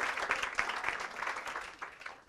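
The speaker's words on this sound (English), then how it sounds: "I think we should give her an applause" An audience breaks into applause after a speaker's tribute, a steady patter of many clapping hands at moderate distance, lasting a couple of seconds and fading slightly at the end.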